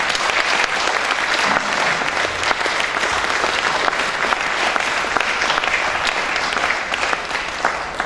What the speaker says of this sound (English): Please let's give the applause going.